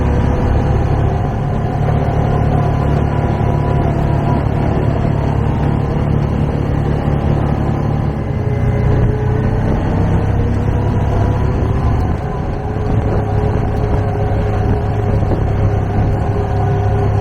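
A vehicle drives along at a steady pace with a constant low engine drone and road rumble heard from inside the cabin, loud and continuous, with no talk.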